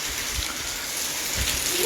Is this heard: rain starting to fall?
yes